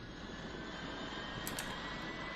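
Boeing 777 jet engine starting up in X-Plane 11, a steady droning whine and rumble that holds level throughout, broken by a couple of brief high clicks near the end.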